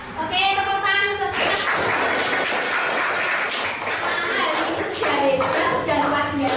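A classroom bursts into hand clapping, a dense burst of applause lasting several seconds, with children's voices and a teacher talking over and around it.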